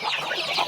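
Chickens cluck and murmur softly together while being fed, a short, close burst of overlapping fowl calls.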